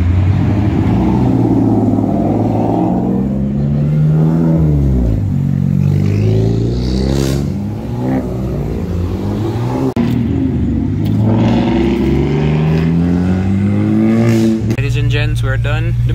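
A JB4-tuned Infiniti Q50 and a tuned Dodge SRT Hellcat accelerate hard, engines rising and shifting through gears in loud, sweeping revs, with people talking over the roar.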